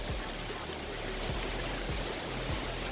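A powerful, tall waterfall roars in a steady, loud, unbroken rush of water heard from close range.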